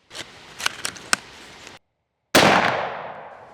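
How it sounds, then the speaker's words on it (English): A .50 caliber muzzleloader loaded with Triple Seven powder fires a Hornady Bore Driver ELDX 340 grain projectile: one sharp, loud blast with a fading tail, after light handling clicks and a brief silence. "Our last projectile to test here is the Bore Driver ELDX from Hornady, 50 caliber, 340 grain projectile"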